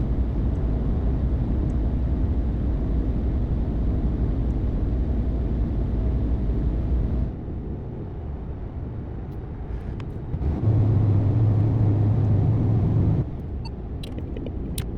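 A truck on cruise control along a highway in Euro Truck Simulator 2 gives a steady, loud engine and road drone. The level dips partway through, and a low, sustained tone rises briefly over it.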